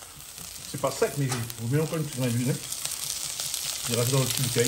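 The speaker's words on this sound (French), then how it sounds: "Tu entends comment il crépille là." Oil sizzles and crackles steadily in a pan while rougail cooks, a continuous frying hiss running under a person talking close by.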